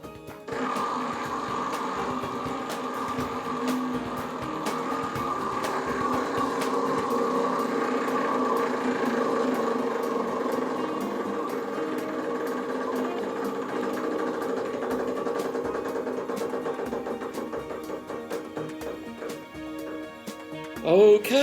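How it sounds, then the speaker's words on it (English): Prize draw wheel spinning at a winners' announcement, a steady mechanical whirring hum that holds for about twenty seconds, then breaks into fast ticking clicks as it slows near the end. "Okay, let's spin it again, Robin."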